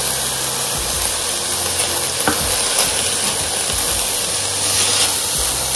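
Chili flakes, salt, red chili powder and curry powder fry in a hot pan with a steady loud sizzle, broken by scraping stirs and occasional clinks of a utensil.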